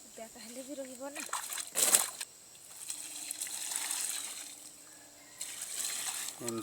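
Water is poured and sloshed onto an onion seedbed in a village field, in uneven splashing gushes separated by pauses, with people talking nearby over it.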